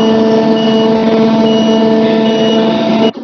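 Truck reversing beeps from a truck simulator sound steadily and loudly over a constant engine drone, continuing without a break until they cut off abruptly near the end.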